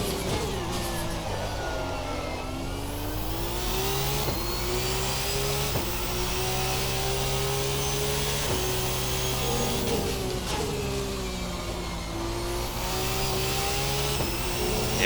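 Formula 2 car in a racing video game on an Austrian circuit, its high-revving engine whining loudly and continuously as the pitch climbs and drops through gear changes, alone without talk.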